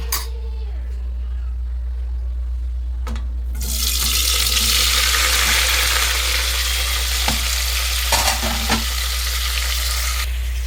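Tomatoes, green chillies and onion hit hot oil in a pressure cooker, bursting into a loud, steady sizzle that runs for several seconds alongside a few stirring clatters, with no talk over it.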